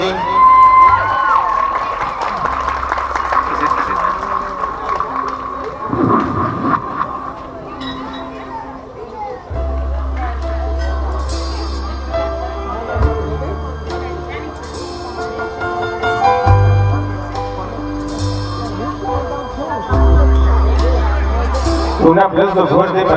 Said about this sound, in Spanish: Escuchen esos aplausos